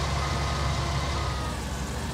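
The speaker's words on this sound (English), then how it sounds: "You can hear the combine turning around in the background." A combine harvester turning around in Farming Simulator 19 gives a steady, loud low engine drone with a broad rumble, continuous for the whole stretch with no talk over it.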